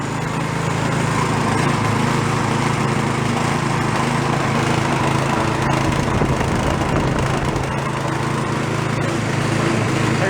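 A free, previously unwanted snow blower's small engine runs steadily during a function test, a loud, continuous close-up drone with a slightly rough, growly tone and no talking.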